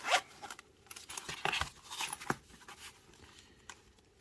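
The zipper on a small pouch holding a folding knife is drawn open in several quick, rasping pulls, close and fairly quiet, with light handling rustle around it and no speech.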